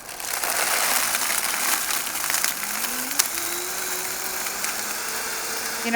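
Vitamix blender running at a culinary showcase demonstration, a steady high whirring motor that rises in pitch as it speeds up, moderately loud with a faint room murmur.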